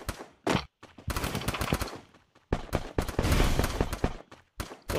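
Bursts of automatic gunfire from the mobile battle game Garena Free Fire, loud and close, rattle in rapid volleys broken by short pauses.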